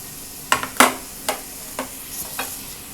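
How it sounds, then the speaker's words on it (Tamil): Chopped tomatoes and onions being stirred in a hot pan for Indian-style masala macaroni pasta, with a low steady sizzle broken by several sharp scraping stir strokes, close and fairly quiet, no talking. "இப்போ இதில் வந்து நம்ம நறுக்கி வச்சுருக்க தக்காளியை சேர்த்துடலாம்"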